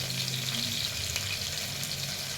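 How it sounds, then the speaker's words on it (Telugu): Long-sliced onions dropped into hot oil for khichdi, sizzling and frying with a steady bright crackle and a few louder spits, close by and with no talk over it. "ఆనియన్స్ పొడుగా కట్ చేసుకొని ఇలా వేసుకున్నాను."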